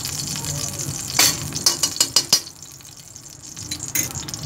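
A spoonful of ghee sizzling in a karahi on the stove, with a steady hiss under several sharp metallic clinks of a spoon against the pan.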